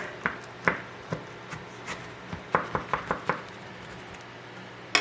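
A knife slicing through a baked tomato basil pie, with a series of sharp taps and crunchy thuds, some spaced apart and others in a quick cluster, close and fairly quiet.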